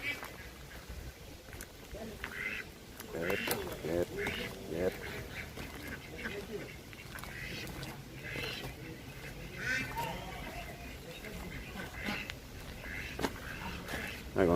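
Ducks quacking outdoors on a hot day, repeated calls scattered through the clip beneath a busy background and occasional nearby talk.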